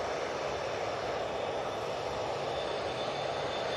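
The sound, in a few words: propeller aircraft engine at Manchester Airport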